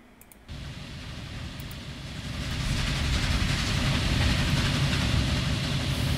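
A train runs in the Transport Fever simulation game, with a steady rolling rumble and rail clatter that begins abruptly and grows louder as it goes on.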